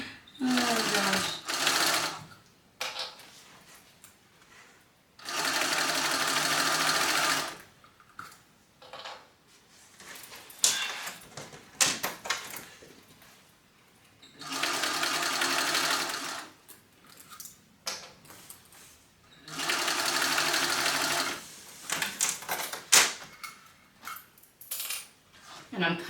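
Sewing machine stitching through a bag, running in several loud bursts of steady whirring separated by pauses filled with clattering handling and the occasional faint voice.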